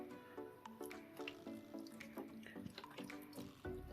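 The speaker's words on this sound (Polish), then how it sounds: "nalejmy mu do miski z wodą" Water trickles and splashes steadily as it is poured into a tarantula's water bowl, a continuous close liquid sound with small drips and no talking.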